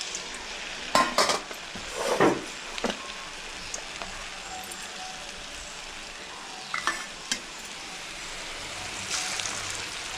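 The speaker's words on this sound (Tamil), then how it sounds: "போடும்போது நிறைய பபிள்ஸ் வருது பாருங்கள்." Rice flour murukku fries in hot oil with a steady bubbling hiss, close and continuous, broken by a few sharp clinks of a utensil near the start.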